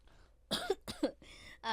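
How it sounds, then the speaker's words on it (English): A quick run of three or four harsh, raspy coughs close up, separated by short pauses in an otherwise quiet room. "This bitch always coughing"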